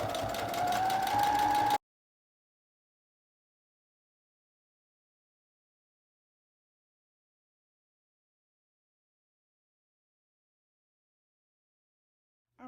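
A sewing machine runs steadily for under two seconds, stitching and backstitching along a coat collar seam with a close, even mechanical whir, then cuts to silence.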